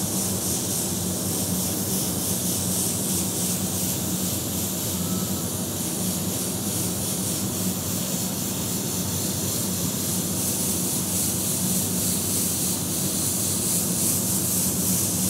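An airbrush sprays paint in a steady, unbroken hiss that runs evenly from start to finish, painting a torn-metal effect.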